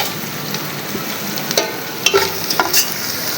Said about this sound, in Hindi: और इसके साथ ही ये खड़े मसाले हम डाल देंगे।